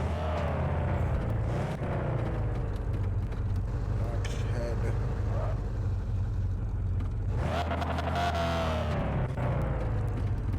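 A small truck's engine in The Radio Station drones and rumbles continuously, swelling into a louder rev near the end, with someone talking over it much of the time.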